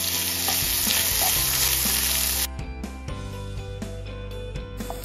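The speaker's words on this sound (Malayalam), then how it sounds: "ഒരു ചെറിയ കഷ്ണം ഇഞ്ചി എടുത്തിട്ടുണ്ട്, അത് വിട്ട് കൊടുത്ത് 1 പച്ചമുളക്, പിന്നെ 2-3 കഷ്ണം വെളുത്തുള്ളി അത് വിട്ട് കൊടുത്ത് ഒന്ന് വഴറ്റിയെടുക്കുക" Ginger, green chilli and garlic sautéing in a pan, with a dense bright sizzle that drops sharply partway through, followed by occasional clinks and stirring under steady frying, heard close up.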